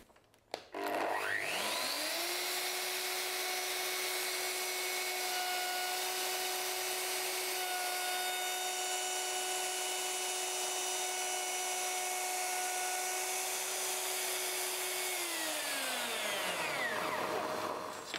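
A wood router spins up and cuts a 7 mm deep dovetail groove into a board in a workshop, a loud steady high whine held for about fifteen seconds before winding down.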